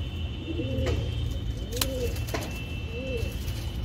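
Kalanka pigeons give a few soft, low coos spaced about a second apart, close and quiet, with a couple of sharp clicks and a steady faint hum behind them and no speech.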